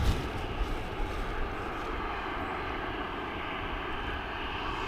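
A Ryanair airliner arriving from Athens at Dublin Airport gives a faint, steady distant engine drone that holds evenly throughout, with no voices over it.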